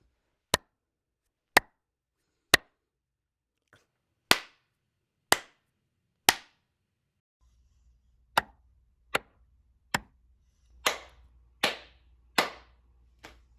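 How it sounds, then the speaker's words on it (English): A single person claps sharply about a dozen times in a home recording studio to test room reverb, each crack isolated with a short decaying tail, spaced roughly a second apart in near silence, with faint low hum in the later claps. "Clap test."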